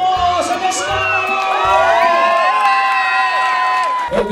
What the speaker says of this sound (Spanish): ¡El grito de las niñas! ¡El grito de los niños!